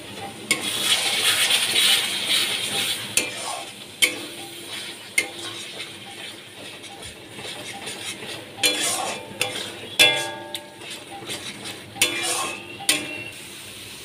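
Paneer curry spice mix stirred and fried in a pan, with a spatula scraping and clinking against the metal in irregular strokes over a soft background sizzle, close and moderately loud.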